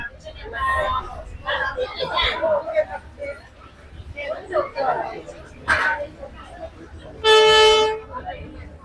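Street chatter and crowd noise on Hanoi's Train Street, Vietnam, then a loud, brief train horn blast near the end as a train approaches slowly through the crowd, clearly rising above the busy background.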